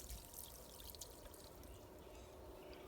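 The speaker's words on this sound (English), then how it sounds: "I'm going to pour the water out on a paper towel so we can kind of see what I got out of the carburetor." Water poured out of a small four-stroke engine carburetor onto a paper towel gives a soft, steady trickling pour that runs continuously for about three seconds at low level, with no voices present.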